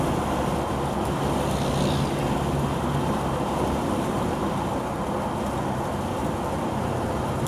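A 1961 Chevrolet Corvette C1 on the road gives a steady, loud engine drone mixed with rushing wind and tyre roar from close inside the car, holding fairly even rather than clearly rising.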